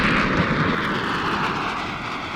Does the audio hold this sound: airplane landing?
yes